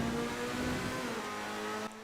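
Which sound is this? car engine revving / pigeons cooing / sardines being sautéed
car engine revving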